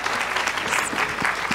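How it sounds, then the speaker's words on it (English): At a panel discussion on women and work, the audience applauds the panel: a loud, dense burst of clapping from a full room that continues steadily without pause. "please give them a big round of applause"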